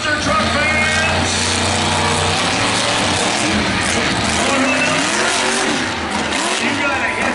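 Loud, continuous engine roar and revving at a monster truck show in Bakersfield, California, with tire noise as a monster truck does a wheelie and crushes cars, a commentator talking over it throughout.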